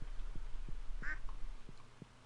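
Farm ducks in a video game give one short, fairly faint quack in the middle, over a soft rhythmic thumping backdrop.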